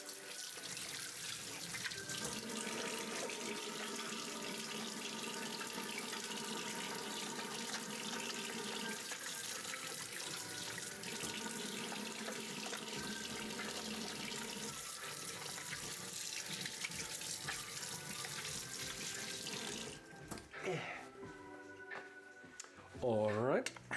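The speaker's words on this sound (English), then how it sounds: "Wash our hands." Kitchen tap running steadily as hands are washed under it, a continuous close water rush that stops near the end, followed by a few handling sounds.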